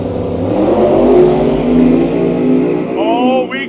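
Drag race cars roar at full throttle at the Cash at the Creek drag event, a loud, continuous, close engine howl whose pitch climbs and shifts as the cars accelerate down the track.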